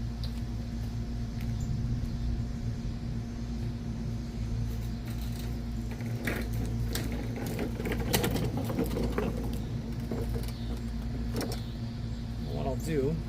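A secondhand Craftsman lawn mower engine, found at the curb and recently repaired, idling steadily while it warms up: a constant, even low drone with a buzzy mechanical edge at moderate distance.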